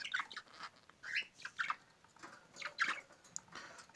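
Budgerigars kept as pet birds give short, scattered chirps and twitters in bursts, fairly close and moderately loud, with brief quiet gaps between calls and no talking.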